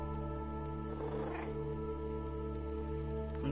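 A cat meows in the video game Stray, a quiet, brief call in the middle of the clip over a steady game background hum.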